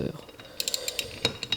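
A wrench working the wheel nuts on a Renault Clio, heard as a run of close, sharp metallic clicks and ratcheting ticks, irregular and fairly quiet over low background noise.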